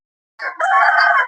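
A guinea fowl gives a single loud, close, harsh call lasting about a second, after a brief stutter at the start.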